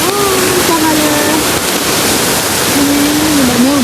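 Water rushes loud and continuous from a waterfall and a channel feeding upland paddy fields, a steady broadband roar with a thin whine drifting over it.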